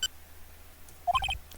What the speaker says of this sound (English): It's just a ringtone, okay.